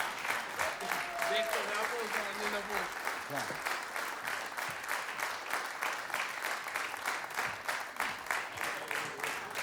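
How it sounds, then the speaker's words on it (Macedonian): Warm concert audience applause fills the hall as steady, continuous clapping, with a voice speaking over it near the start. "Не сме научени на волку аплауз."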